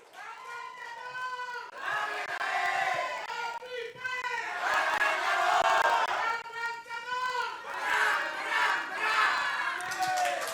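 A crowd of candidate-pair 02 supporters at a 2024 Grobogan regional election debate cheers and chants loudly and steadily throughout, with shouting voices rising and falling in a continuous roar.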